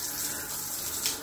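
A hotel bathroom shower head sprays water in a steady, close hiss, with a low thump near the end.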